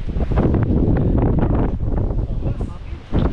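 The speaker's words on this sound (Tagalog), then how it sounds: "Mahangin." Wind gusts on a snowy hiking trail in Riding Mountain National Park, buffeting the microphone with a loud, continuous rumble. It holds steady and swells into a fresh gust near the end.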